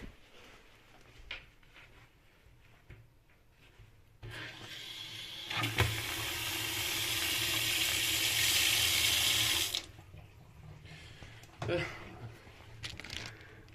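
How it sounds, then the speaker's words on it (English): Hot water runs steadily from a single lever mixer tap after a cartridge replacement, a broad close hiss lasting about four seconds before cutting off, with handling clicks and knocks around it. "Turn on the water, just do hot only."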